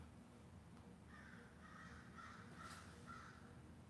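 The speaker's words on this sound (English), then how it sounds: "Hear the crows? I hear the crows." A series of crow caws, about five in quick succession, somewhat distant over a steady low background hum.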